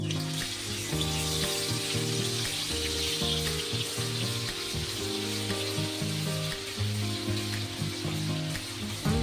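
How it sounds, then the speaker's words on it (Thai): Pounded stink beans and shrimp paste stir-frying in hot oil, a loud, steady sizzle with scraping and stirring clatter from the pan running throughout. "ผัดกับน้ำมันให้เกิดความหอมครับผม"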